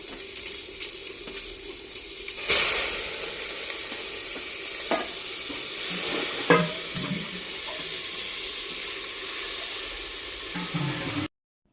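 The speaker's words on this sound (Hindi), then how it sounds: "अभी मैं यहाँ पे जो चावल है वो भी छोंक दूंगी" Rice being tempered in a cooking pot in a home kitchen: a loud burst of sizzling as it hits the hot pot, then steady frying hiss with occasional stirring clinks, ending abruptly.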